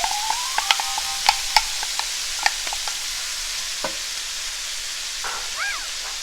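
Onions and carrots sizzle in a pot for lentil soup, a steady frying hiss broken by a handful of sharp spoon scrapes and clinks as they are stirred, with no talking.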